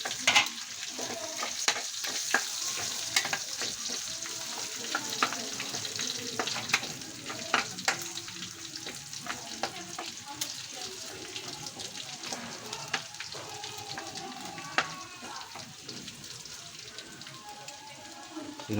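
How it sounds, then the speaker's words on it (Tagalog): Garlic sautéing in oil for adobong sitaw, a steady crackling sizzle with stirring clicks throughout, fairly quiet and close, with occasional faint talk underneath. "Okay, magigisa na tayo ng bawang."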